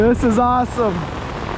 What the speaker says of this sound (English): How many of you guys out there take walks in the rain like this?